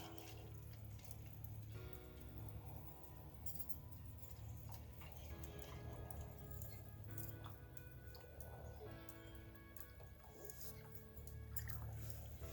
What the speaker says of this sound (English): now we have the garden hose running through the frizz filter